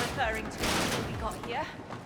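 Rapid gunfire in the video game Split Fiction, a dense rattling stream of shots that swells and recedes, with voices talking over it.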